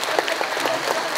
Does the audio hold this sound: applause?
yes